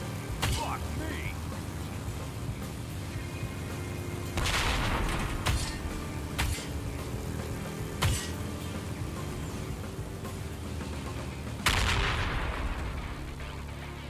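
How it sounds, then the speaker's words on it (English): Grenade blasts and gunfire ring out in the motorcycle action game Ride to Hell: Retribution, a handful of sharp booms and cracks scattered across a quieter engine and background bed, one loud burst near the end. "that bike literally blew up on you"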